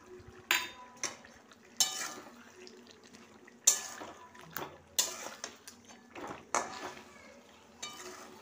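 Curd goes into a cooking pan and a utensil stirs it continuously, making a series of distinct scraping clinks and wet knocks against the metal, spaced about every half second to second, fairly quiet with no voices.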